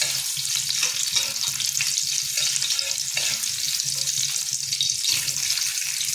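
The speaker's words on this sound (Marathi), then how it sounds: "कांदा सुद्धा आपल्याला व्यवस्थित लाल गुलाबी कलरचा होईपर्यंत परतायचा आहे" Chopped onion and green chillies sauté in a hot pan for anda bhurji, making a steady, close, bright sizzle with occasional stirring scrapes. No one speaks throughout.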